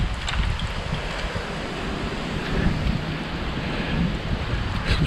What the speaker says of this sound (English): Some serious gusts.